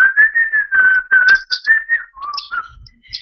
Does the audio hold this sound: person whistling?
yes